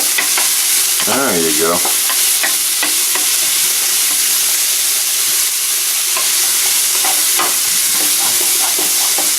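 Onion frying in a pan on a stovetop while potato pasta is prepared, giving a steady, loud sizzle throughout with a brief stirring scrape near the start and a short spoken phrase.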